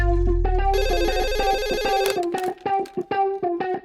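A phone ringtone plays a repeated electronic melody, loud and close, in a steady pulsing pattern before cutting into short bursts.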